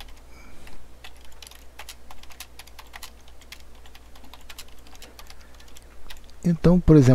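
Rapid keystrokes clatter on a computer keyboard while text is typed into a word processor on an openSUSE Linux desktop, close and continuous, with someone talking briefly near the end.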